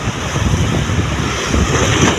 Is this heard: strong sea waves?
yes